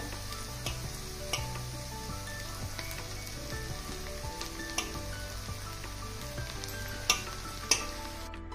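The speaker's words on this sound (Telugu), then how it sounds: "ఒక్క నిమిషం వేగనిచ్చి స్టవ్ కట్టేసుకుందాము" Spiced puffed rice for Rayalaseema uggani fries and is stirred in a pan, with a soft, steady crackle broken by repeated scraping and tapping of a spatula against the metal.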